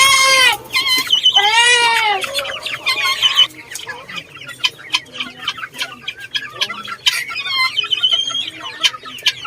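Naked neck chickens in a backyard flock, clucking and crowing close by with loud overlapping calls, followed by scattered softer clucks and chatter.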